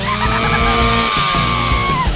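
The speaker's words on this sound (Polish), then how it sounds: "Mam pomysł, jak podzielić batonika na kilka smacznych kawałków." A saw cutting through a chocolate bar: a loud, steady whining buzz with throbbing pulses, running continuously and close up with no talk.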